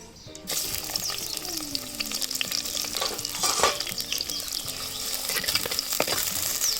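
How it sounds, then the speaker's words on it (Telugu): Chopped onions sizzle and fry in hot oil for a tempering, a steady crackling hiss with stirring scrapes throughout, close and fairly loud. "నూనె అయితే వేసాను కదా, ఇప్పుడైతే ఉల్లిగడ్డలు అయితే వేస్తాను"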